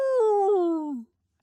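A single voiced howl imitating a wolf-like cry, rising slightly then sliding downward in pitch for about a second before stopping, close and fairly loud with no other sound around it.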